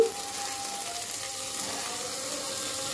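Mint leaves frying in a pan for vegetable biryani, giving a steady, soft sizzle that holds evenly throughout with no voices over it.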